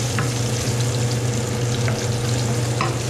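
Onions frying in a hot pan for a home-cooked Filipino dish, a steady close sizzle with a few faint stirring scrapes and no voices.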